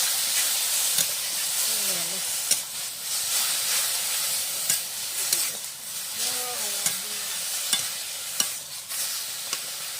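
Pea greens with green chili being stirred and fried in a pan: continuous loud sizzling and hissing steam with repeated scraping strokes of a spatula throughout.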